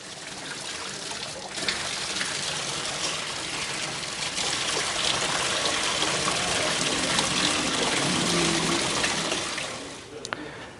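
Water gushes and splashes steadily as it drains from an RV travel trailer tank once the plug is pulled, then thins out and stops near the end.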